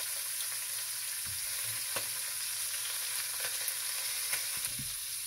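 Turkey wings and chips frying in a pan, a steady close sizzle with occasional soft pops and stirring knocks, no voices.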